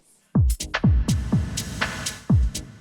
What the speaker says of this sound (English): So that's a low pass and a echo, reverb.